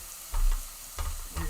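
Food sautes in olive oil in a pan, with soft sizzling and a few short bursts of stirring or scraping, close and alone.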